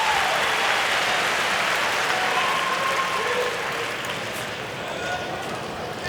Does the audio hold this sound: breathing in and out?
no